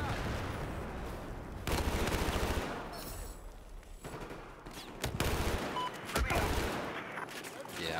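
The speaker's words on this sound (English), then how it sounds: "I'm just gonna use an assault rifle for now" Assault rifle fire in a video game: several bursts of rapid automatic shots, loud and close, separated by quieter gaps, with a voice audible between volleys.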